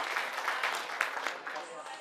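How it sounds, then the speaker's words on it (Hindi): At a community gathering of a Bihar association in Surat, an audience gives a brief burst of clapping, a short patter of hands mixed with a voice speaking over it. "जोरदार तालियों स्वागत होना चाहिए"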